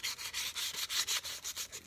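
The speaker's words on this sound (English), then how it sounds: "lots of sanding to do on little projects like this" Steady back-and-forth rasping of sandpaper on a small carved wooden hand, a quick even rhythm of about six strokes per second, close and fairly quiet.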